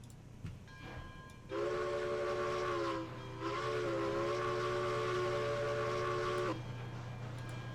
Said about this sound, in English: Yeah, I like that whistle. I like the tones on it.